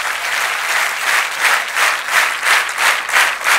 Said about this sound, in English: So I want you all to clap for one last time for yourself, yeah?